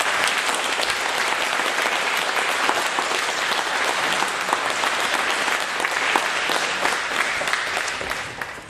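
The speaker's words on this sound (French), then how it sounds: "on l'applaudit bien fort" Sustained applause from the audience at a 2009 assembly of former mayors in Puisieux, a broad, even roar of many clapping hands that holds for several seconds before tapering off.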